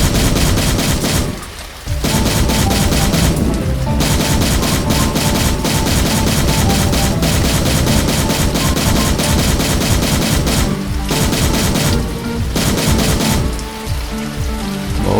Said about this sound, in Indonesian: ini sedang berjalan lari ya, sambil menembak